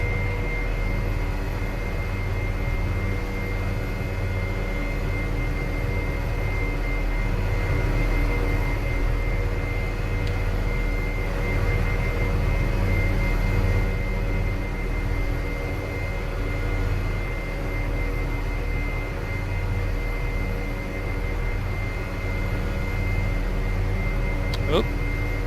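A MilViz MD530F helicopter in the Prepar3D flight simulator drones steadily with a constant rotor and turbine hum, unchanging and continuous throughout.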